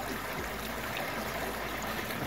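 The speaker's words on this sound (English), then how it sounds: "Just got down here in the creek." Water in a Missouri creek flows with a steady, even rushing and trickling wash, close by, with no voices over it.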